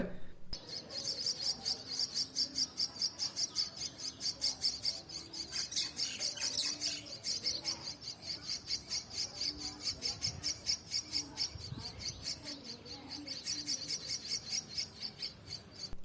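A garden where a pair of mynas nests with three chicks is filled with constant, fast, rhythmic chirping and trilling. The calls are faint and steady throughout, with occasional softer calls beneath.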